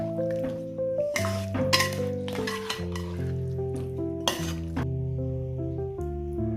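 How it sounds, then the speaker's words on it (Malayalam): A spoon clinks against a pot as chopped tomatoes are stirred into a biryani masala with ghee, with bright metallic knocks and scrapes over a soft sizzle and a steady tonal hum. "അതും വീണ്ടും നന്നായിട്ടൊന്ന് ഇളക്കി യോജിപ്പിക്കുക."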